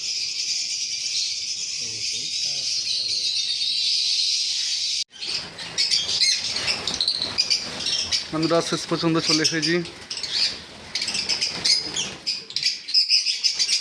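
Birds chirping at a bird farm, a dense steady chatter at first, then mixed with rattles and clatter as someone talks over it.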